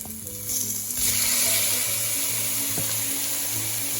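Shrimp sizzles steadily in a hot pan, a constant crackling hiss that grows a little louder partway through.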